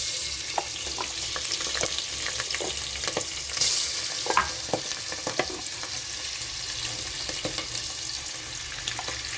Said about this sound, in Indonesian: selanjutnya adalah kita menggoreng jamur.